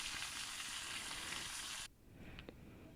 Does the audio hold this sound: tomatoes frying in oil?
yes